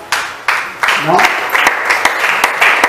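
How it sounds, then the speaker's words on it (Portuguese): Applause from a church congregation breaks out in short bursts of claps, with a voice talking over it. "com uma salva de palmas"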